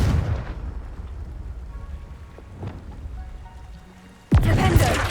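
A Confringo fire-blast spell goes off in Hogwarts Legacy, bursting suddenly loud near the end after a stretch of steady crackling, rain-like rumble.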